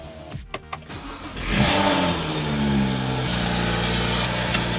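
A BMW N55 car engine, just repaired for a fuelling problem, cranks briefly with a few clicks, catches with a rising rev and then settles into a steady, smooth idle close by, with no talking.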